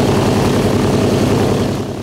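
A Grumman Avenger propeller aircraft flies close by, its piston engine a loud, steady, heavy drone that fills the clip with no talking.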